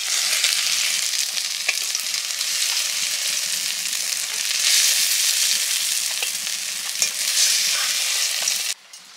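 Prawns and taro stolons fry and sizzle steadily in hot oil in a home kitchen, a dense continuous crackle with occasional stirring clicks, close and fairly loud, ending abruptly near the close.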